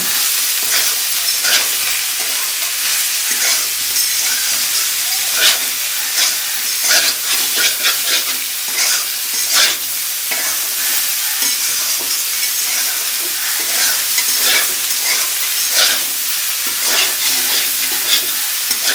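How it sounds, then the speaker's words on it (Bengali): Pumpkin pieces frying in a pan with turmeric and salt, a loud, dense, hissing sizzle that runs unbroken throughout with faint crackles and stirring scrapes, close up and without talk. "হলুদ লবণটা দিয়ে এবার একটু ভেজে নেব"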